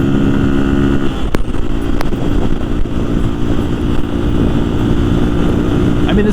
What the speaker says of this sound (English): hear the engine scream through 5 gears when you're doing 50 miles an hour